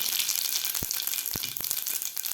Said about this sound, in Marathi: जिरे मोहरी आपली व्यवस्थित तडतडलेली आहे